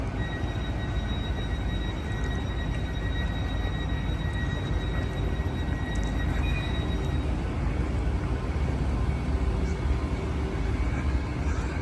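A nine-coach passenger train running at speed, heard from inside a first-class carriage as a continuous low rumble and rolling roar, with faint thin high squeals from the wheels over the steady noise.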